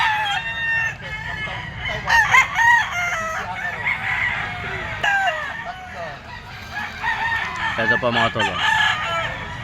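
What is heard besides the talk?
yellow-legged gamecock rooster crowing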